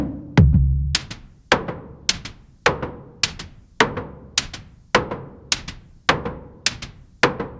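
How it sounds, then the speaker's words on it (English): A drum voice from an XAOC Samarkanda modular synth module fires from a plain trigger sequence, giving about a dozen sharp, evenly spaced thuds, each with a short decaying tail, close and loud with no voices. "here you have only the sound of the drum generated through by the trigger sequence here, by the Belgrade"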